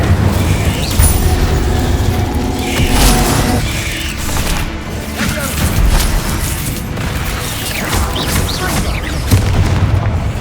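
Incendio fire spell cast in the video game Hogwarts Legacy: a dense, continuous roar of booming game effects and crackling bursts, loud and steady throughout, with speech-like game sound mixed in.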